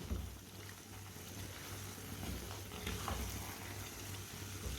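Halwa cooking in a pan while being stirred with a spoon, a steady low sizzle and bubbling with faint scraping, continuous and fairly quiet, no talking.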